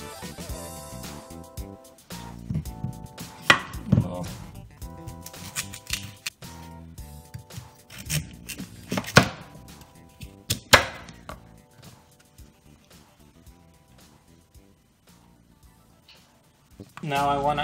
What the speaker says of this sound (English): We're gonna chop them into rough squares.